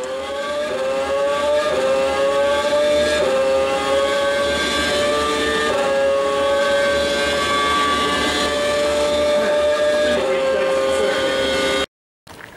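A high, whining F1 racing simulator game engine revs continuously, its pitch climbing and dropping back through repeated gear shifts, loud and steady, then cuts off abruptly.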